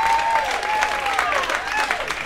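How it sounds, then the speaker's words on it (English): An audience claps steadily at a live talk, a dense crackle of many hands that carries for a couple of seconds, with a speaking voice faintly over it. "I don't know why you're clapping."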